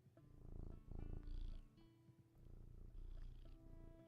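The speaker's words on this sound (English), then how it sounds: "there are cats everywhere, by the way. Just randomly, just like little stress relief stations. Because they purr." A cat purrs in the cosy video game Teddy's Haven, a steady low rumbling purr looping softly in pulses with faint game music tones, no talking.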